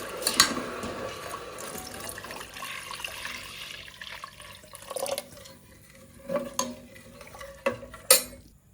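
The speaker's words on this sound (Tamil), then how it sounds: "நம்ம வடிகட்டின அந்த நன்னாரி தண்ணியை நம்ம இதில் ஊற்றிடலாம்." Strained nannari root water poured into a pan of melting sugar syrup, with clinks of a metal pot and utensil, a short liquid pour and splashes, and a few sharp taps near the end, close and fairly quiet.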